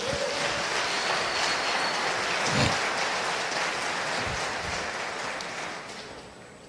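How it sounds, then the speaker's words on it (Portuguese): A church congregation applauds through a Sunday service, a steady, dense patter of clapping filling the room from start to finish and fading slightly near the end. "Pode aplaudir mais que é para ele."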